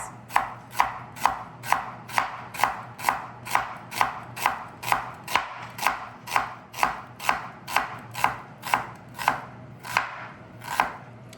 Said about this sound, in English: Slice it in half like so, and then just do thin slices.